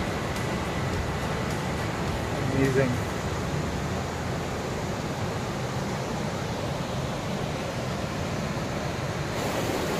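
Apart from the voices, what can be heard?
thundering waterfall on Kheerganga trek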